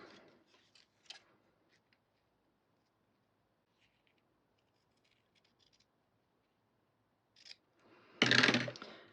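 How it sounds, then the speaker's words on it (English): Scissors cut a ribbon in half: a few faint snips and rustles in a quiet room, then one loud, crisp cutting crunch close by near the end. "I'm just going to try and cut it right in half, and I need some different scissors for that."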